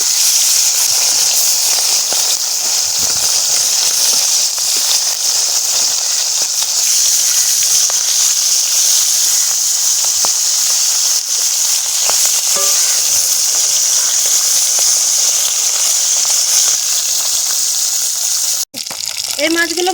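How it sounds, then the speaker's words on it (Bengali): Fish frying in hot mustard oil in a kadai in a village kitchen, a steady loud hiss and sizzle that runs unbroken the whole time with one brief dip near the end. "তেল গরম হয়ে গেছে, একে একে মাছগুলো দিয়ে দেবো"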